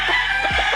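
A single brief crow from a young rooster, a stag kept on a chicken farm, sounds loud and close against a steady background hiss.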